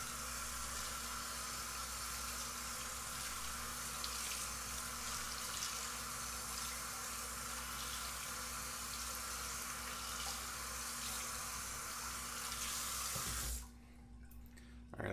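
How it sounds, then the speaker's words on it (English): Running tap water pours steadily as a shaving brush from a Leaf Shave bowl-and-brush set is rinsed of lather, a continuous close rush of water that cuts off abruptly near the end. "I'll put it under water and then I'll squeeze it to get all the lather out"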